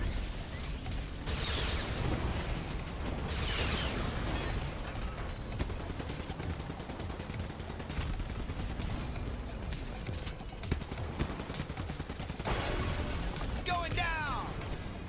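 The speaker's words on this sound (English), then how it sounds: "Rockets." Rockets and explosions crash out in the Hardware Rivals vehicle combat game, a dense barrage of booms, bursts and gunfire-like rattles running steadily throughout, with players talking over the action.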